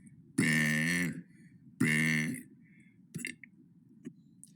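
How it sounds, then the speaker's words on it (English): Two long, loud, deliberate burps come close to the mic, each drawn out for most of a second with a rough, voiced tone, followed by a few faint clicks and small mouth noises. "That was day 30 of burping for 100 days."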